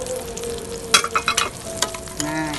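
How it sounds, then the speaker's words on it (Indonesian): Cinnamon and lightly crushed cardamom sauté in a pan with garlic, making a continuous close sizzle punctuated by several sharp clanks and scrapes of stirring; no talk is heard. "kita tumis sampai harum, tapi jangan terlalu gosong ya"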